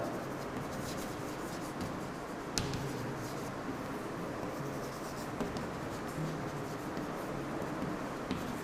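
Chalk or marker writing an equation on a board in a physics classroom, a steady scratchy rubbing that runs continuously with a few brief sharper taps, fairly close and moderately loud, with no talk over it.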